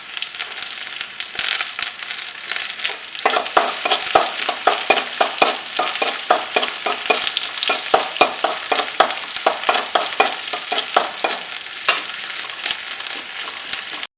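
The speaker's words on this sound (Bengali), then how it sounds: "পেঁয়াজটা একটু নেড়ে নিচ্ছি, একটু লালচে পাড়া হয়ে যাবে।" Onions fry in a pan while being stirred, a bright steady sizzle with rapid, rhythmic scraping strokes of a spatula through the middle stretch, close and clear with no voices.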